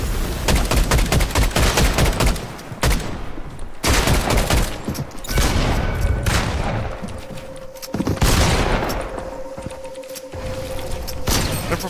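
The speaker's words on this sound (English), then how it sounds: "Let's see if I can land some shots on them" Rapid bursts of gunfire in a Fortnite match, loud and dense, coming in several volleys with short pauses between them and a few booming hits mixed in, with no talk over it.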